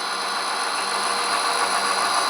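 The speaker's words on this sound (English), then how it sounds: "Got that nice SD40 whine." A steady, loud SD40 diesel locomotive engine whine with a high tonal hum over a broad rumbling drone, continuous and close.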